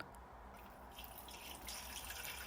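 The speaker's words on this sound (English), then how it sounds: "the sound of the dripper when the coffee starts to pour in" Coffee trickles through a pour-over dripper in a faint, steady liquid patter that grows slightly brighter toward the end, heard alone.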